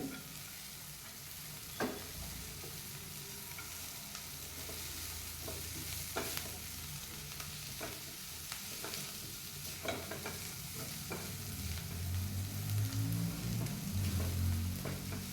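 Chopped coriander and a filling being sautéed and stirred in a pan for sev kachori, with a steady soft sizzle and repeated scraping stir strokes close by, growing slightly louder toward the end, with no talking.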